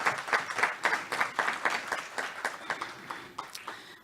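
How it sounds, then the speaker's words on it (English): Audience applause at a public awareness-day event honoring a veteran, many hands clapping in a fairly rhythmic, pulsing pattern that gradually thins and fades out near the end, moderately quiet. "let's give him another round of applause"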